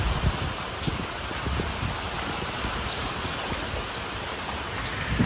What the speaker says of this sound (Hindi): अभी तक बारिश बंद नहीं हुई है